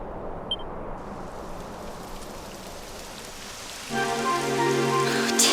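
Steady rain hisses across a surface in the fantasy role-playing game Dragon Quest XI, a soft broadband wash that continues throughout and is later joined by sustained musical tones.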